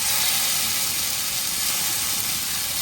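Fish frying whole in hot oil on a dosa tawa, a steady broadband sizzle and hiss that stays loud and even throughout with no talking.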